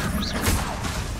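Expulso blasting-spell impact in Hogwarts Legacy, a single sharp explosive crash with a whooshing burst that fades into rumbling combat noise.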